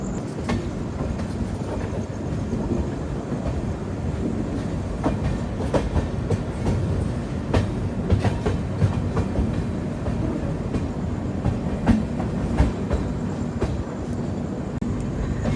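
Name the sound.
Humsafar Express passenger train moving, clickety-clack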